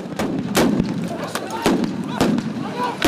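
Police stun grenades go off during a roadblock protest in the Cape Flats, a run of loud sharp blasts spaced irregularly, echoing close by over crowd noise.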